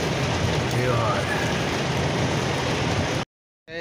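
Heavy, steady rain pouring down outdoors near a warehouse yard, a loud continuous broadband hiss that holds at one level for about three seconds before cutting out abruptly.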